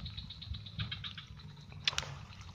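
Light drizzle patters steadily while fishing for climbing perch in a swamp, a soft continuous rain texture with scattered faint ticks and a few sharper knocks near the end, close and alone with no talking.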